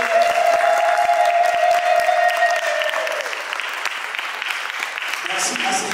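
A church wedding congregation applauds loudly and steadily for a few seconds, the clapping thinning out as a sustained musical tone fades beneath, then distant voices and music resume.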